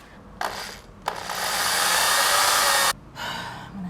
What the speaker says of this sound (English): This is an old electric screwdriver.